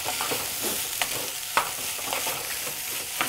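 Food stirred in a cooking pan, with a spoon scraping and tapping against the pan in uneven strokes over a constant background sizzle, close and moderately loud, and a few sharper knocks along the way, no talking.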